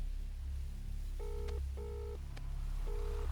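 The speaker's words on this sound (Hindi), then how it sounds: "उन्हें फोन करके मुझे पूछना पड़ेगा" A telephone being dialed to place a call gives four short touch-tone beeps in an uneven rhythm, thin and quiet over a low steady hum, with no talking.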